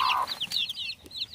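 A mother hen clucks among newly hatched chicks, with high, bright peeping calls from the chicks repeating rapidly over a lower cluck at the start, close and fairly loud.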